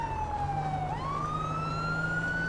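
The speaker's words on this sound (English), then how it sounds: "let me turn off the sirens." A police car siren in GTA V wails steadily and loud, its tone dipping briefly then climbing into a sustained high wail over a low idling engine hum.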